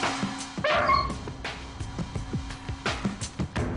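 A dog gives a couple of short yipping barks followed by whimpers and whining, close and fairly loud, with a car faintly in the background.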